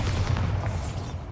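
Bombarda spell explosion in the video game Hogwarts Legacy, a dense low booming rumble that fills the whole moment loudly and steadily, with no voice over it.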